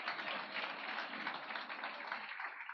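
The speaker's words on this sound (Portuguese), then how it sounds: "Podemos dar uma salva de palmas e glorificar o Senhor?" A church congregation claps together during a missions service, a dense, continuous wash of applause heard faintly and somewhat muffled, with no one talking.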